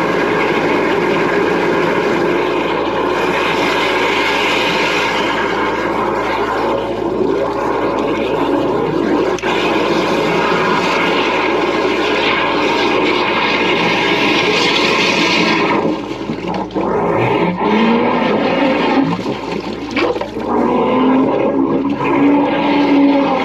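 Loud, continuous roaring spray of a high-pressure water jetter with a spinner nozzle at about 2000 PSI clearing blocked urinals, steady for most of the clip before briefly dropping and surging back.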